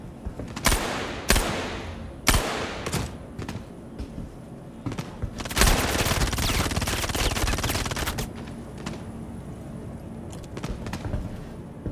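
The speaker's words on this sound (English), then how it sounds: "they're going crazy shooting the dead guy" Star Citizen firefight with sharp separate gunshots early on, then a long sustained burst of automatic fire in the middle, trailing into scattered shots and quieter stretches, loud and close.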